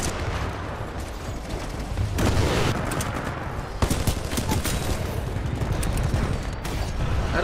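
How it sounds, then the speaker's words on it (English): Heavy enemy gunfire in the video game Titanfall 2: a dense, continuous barrage of rapid shots and booms with sharper bursts throughout, loud and sustained with no pause. "That's a lot of enemy fire."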